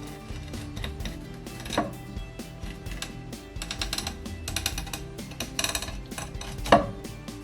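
A kitchen knife slices into a largehead hairtail fish, working from the belly side along the backbone, with repeated soft scraping and crisp clicking strokes against a board, steady and close.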